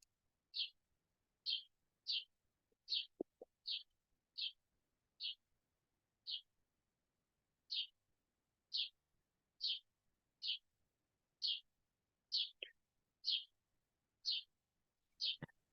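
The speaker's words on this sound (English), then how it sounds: "I'm finally hearing those birds you were talking about." Birds sing from a tree close by, a steady series of short bright chirps repeated roughly every half second to second, clear and moderately loud over an otherwise quiet background.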